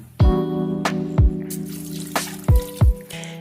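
Water is poured into a cooking pot of peanut butter stew, a trickle with several distinct plopping splashes at uneven intervals over a faint background hum.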